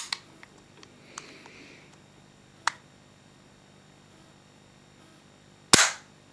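A WE double-barrel 1911 airsoft gas blowback pistol fires one sharp, loud crack near the end, preceded by a few small clicks and taps of handling in a quiet room.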